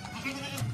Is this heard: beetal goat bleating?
yes